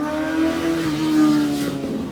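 A car drives past outdoors near a backyard pellet smoker: a loud engine hum that swells and shifts pitch as it goes by, then starts to fade, with no talking over it.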